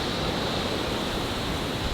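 Surf washing steadily onto a beach on a Cambodian island in front of small bungalows and hotels, a dense, loud, continuous rush with no voices.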